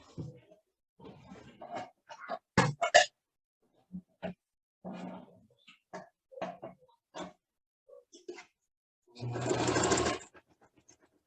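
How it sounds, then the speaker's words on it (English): A sewing machine stitches two fabric layers into a French or flat-felled seam, running in short stop-start bursts of mechanical whirring and then one longer steady run near the end, close and fairly loud. "So I'm going to start sewing."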